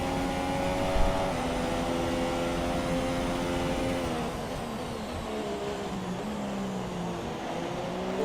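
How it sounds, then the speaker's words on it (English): Racing car engine in F1 2017 on a US circuit, a steady high whine with shifting pitch bands as the revs change, running continuously and fairly loud without talk, with a brief bump near the start that fits a tyre lock-up. "Massive lock up there from Verline"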